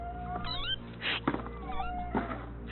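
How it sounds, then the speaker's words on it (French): Several cats meow repeatedly on a Paris street, a series of rising and falling cries with brief thumps between them, fairly close and clear. "depuis hier ils sont en train de miauler"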